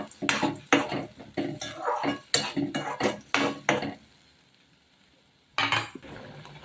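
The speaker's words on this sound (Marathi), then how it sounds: "आलं, लसूण, कोथिंबीर, मिरचीचं त्याला तेल सुटेपर्यंत चांगलं परतवून घेऊयात।" Ginger, garlic, coriander and chili paste being stirred in oil in a pan, with a spoon or spatula clinking and scraping against the metal in quick repeated strokes, a pause, then one more scrape.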